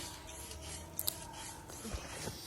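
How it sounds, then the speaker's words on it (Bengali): A grandmother grinds spices on a grinding stone, giving a steady, close rasping and rubbing scrape with a few sharper knocks of stone on stone. "নানি এদিকে মশলা বেটে নিচ্ছে"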